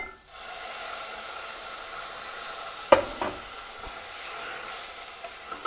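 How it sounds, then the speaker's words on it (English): Steady sizzling and hissing of artichokes frying in a pan, with a brief clatter of a utensil stirring partway through. "so artichoke's frying"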